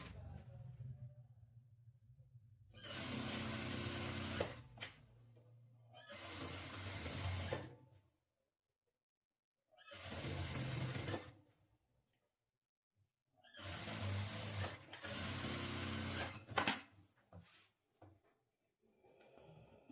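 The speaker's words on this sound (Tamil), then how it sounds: "இப்போ நெக்கோட மேல் பக்கமாக போட்டுக்கலாம் ஒரு தையல்." A sewing machine runs a stitch along the upper side of a neckline on a saree being made into an umbrella dress, in several close, steady whirring bursts of a few seconds each with quiet pauses between.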